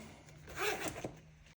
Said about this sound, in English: My zipper's in the way.